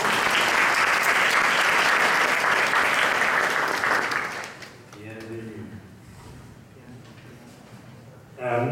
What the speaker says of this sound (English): let's give a round of applause to show our warmest welcome